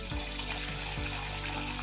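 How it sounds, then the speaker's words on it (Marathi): Sabudana and potato rolls fry in peanut oil in a kadhai, giving a steady, close hiss of bubbling oil with a couple of soft low thuds, and no talking. "त्यामध्ये हे रोल आपल्याला तळून घ्यायचे."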